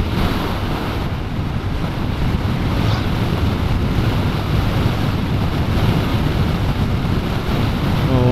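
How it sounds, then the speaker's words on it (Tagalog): Strong wind roars continuously into the microphone on a moving Honda Click 125i scooter, a loud, rushing buffeting that never lets up, with no voices. "Lakas ng hangin."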